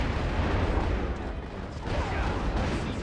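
Fire attack explosions in the Dynasty Warriors 8 Xtreme Legends video game, a dense continuous roar of booming blasts and rumbling bursts, loud and sustained with no clear gaps.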